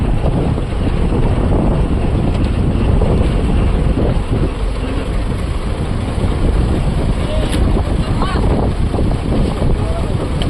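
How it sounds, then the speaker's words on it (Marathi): A strong storm wind at sea roars continuously, buffeting the microphone with a dense, steady rumble and no clear pauses. "वाऱ्याचा प्रवाह पण जोराने आहे वादळामुळे."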